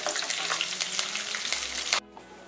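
Green chillies and roasted gram fry in an oil-filled pan with a loud, dense crackling sizzle that cuts off abruptly near the end.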